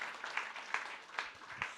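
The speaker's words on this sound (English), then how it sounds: "Guys, was that enough of a clap?" Scattered claps from a small audience at a personal finance launch event in Uganda, a few distinct hand claps rising over a soft, steady background wash, fairly quiet and without voices.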